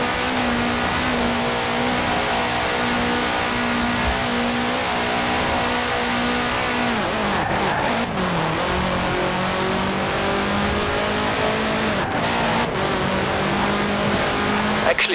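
A Chevrolet Corvette's engine roars continuously in Forza Horizon 4, holding a loud sustained drone that drops and climbs with gear changes, with brief tire squeals.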